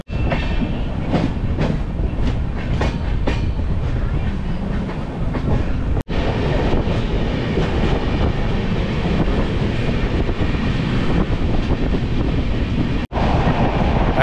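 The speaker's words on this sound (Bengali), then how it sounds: "ট্রেন কিন্তু মোটামুটি ভালোই স্পিডে চলছে" A passenger train running at speed on a rainy route through Santragachi and Mecheda, a loud, steady rumble and rattle of railcars with faint rhythmic clacking and brief sharp breaks in the roar.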